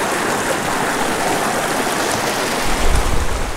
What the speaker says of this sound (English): Isn't this a beautiful stream?